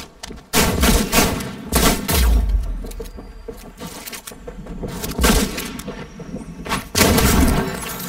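Gunfire in a shooter video game: loud, close bursts of sharp shots in irregular clusters with heavy thumps between, dense crackling volleys over a few seconds.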